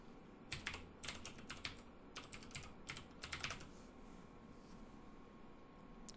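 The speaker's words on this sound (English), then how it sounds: "just go type in disk management." Keys clatter on a computer keyboard in quick bursts of typing, with a pause in the middle and a quiet stretch at the end, soft and close in a calm room without talk.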